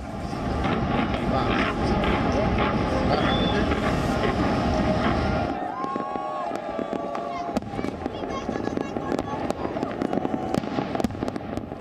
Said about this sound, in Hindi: दुबई के 30 अलग अलग जगहों पर आतिशबाजी की गई।